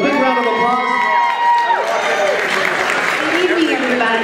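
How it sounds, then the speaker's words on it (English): An audience at a charity event greets a board chair with a big round of applause and cheering, opening on a drawn-out vocal swell before crowd noise and clapping fill in. "to a big round of applause"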